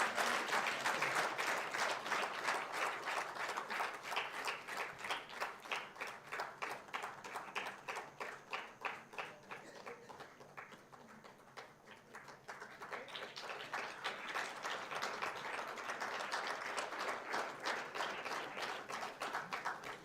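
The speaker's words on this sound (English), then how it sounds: "We can actually clap." Audience at a corporate symposium in Chennai claps and applauds steadily for about twenty seconds, a dense rhythmic patter of many hands that dips slightly midway and then swells again, with no speech over it.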